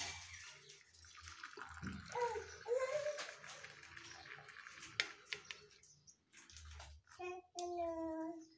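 Masala lemon tea poured from the pan into a cup, a short trickling liquid stream heard close by, with faint kitchen clatter and a little background noise around it.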